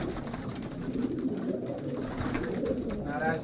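Soft, low pigeon coos repeat over a dull background murmur, fairly close but quiet, from paired racing pigeons outdoors at 0 degrees.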